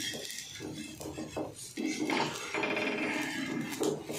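A besan pola, a gram flour pancake, is flipped in a pan, giving a scrape and clatter of the spatula against the metal, followed by continuous rubbing and sizzling close up.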